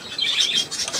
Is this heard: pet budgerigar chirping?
yes